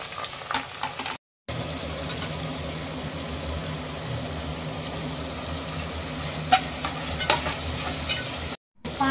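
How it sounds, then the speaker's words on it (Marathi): Onion being stirred into a sizzling curry-leaf tempering for a Sankranti mixed-vegetable bhaji: a steady, close frying hiss with spoon scrapes and stirring, broken by two brief dropouts, and no voices. "त्याच्यानंतर आपण ह्याच्यामध्ये कांदा मिक्स करत आहोत"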